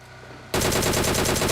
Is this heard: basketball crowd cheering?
no